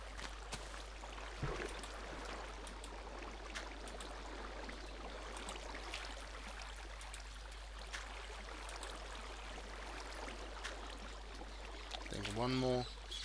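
In Minecraft, water is poured out of buckets, making a soft, steady, faint watery rush and trickle that runs throughout, with a brief louder splash near the end.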